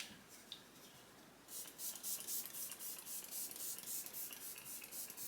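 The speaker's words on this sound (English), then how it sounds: "Okay, setting spray." Makeup setting spray misting out in a rapid series of short hissing bursts after a quiet start, close and fairly soft, with no one speaking over it.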